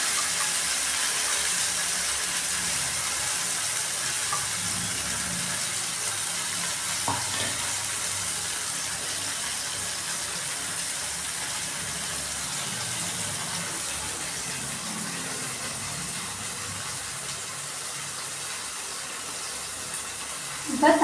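Ground tomato purée hits a hot pan for pasta sauce, giving a steady, even sizzle and hiss that continues at moderate level throughout with no clear break.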